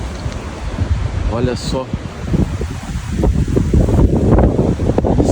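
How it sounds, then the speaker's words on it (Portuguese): Strong gusting wind buffets the microphone outdoors near Ushuaia before a road trip to Perito Moreno, a constant loud roar with surging gusts beneath a voice speaking briefly. "Previsão é de entrar chuva, mas olha o vento."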